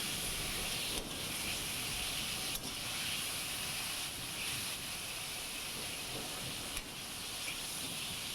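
Chicken pieces frying in oil for homemade dhaba-style karahi chicken, a steady close sizzling hiss that continues evenly throughout with occasional brief dips.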